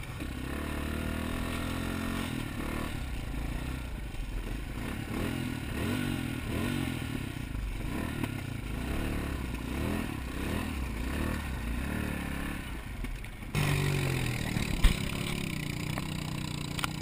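A vehicle engine in a video game drives steadily in second gear, a continuous rumbling drone with clattering, heard loud and unbroken throughout with no clear talk.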